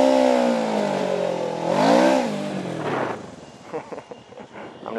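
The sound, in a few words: motorcycle engine revving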